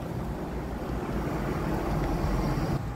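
Steady wind blowing in an open outdoor spot, a dense continuous rumble and hiss filling the whole stretch at a fairly even level, with a slight dip near the end and no talking.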